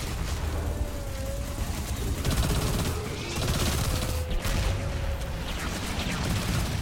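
Continuous rapid gunfire in the shooter game Destiny 2 during a Nightfall strike on Inverted Spire, loud dense volleys with sustained automatic fire and no pause.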